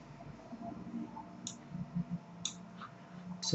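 A computer mouse clicks a few times, sharp isolated ticks spaced about a second apart over quiet room noise, near and fairly faint, with no talking.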